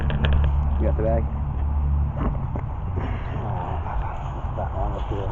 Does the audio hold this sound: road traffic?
yes